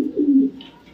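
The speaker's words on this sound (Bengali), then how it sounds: "কবুতরটা বিআরপিএফসি ক্লাবের 2024-এর একটা মাদি কবুতর।" A female pigeon gives a single short, low coo close by, followed by faint rustling.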